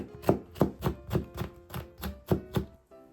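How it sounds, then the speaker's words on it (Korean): Knife slicing red chili on a cutting board: about nine crisp, evenly paced chopping strikes, close and clear, with no talking. "홍고추도 반으로 썬 후 송송 썰어주세요."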